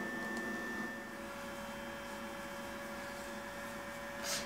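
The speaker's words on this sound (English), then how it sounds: "You kind of hear the machine itself kind of making almost like a fan type noise." A WarmDerm radio frequency skin device runs on level one, giving off a steady, faint fan-like whir with a thin constant tone, alone and unbroken for a few seconds.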